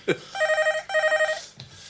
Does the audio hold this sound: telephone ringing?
yes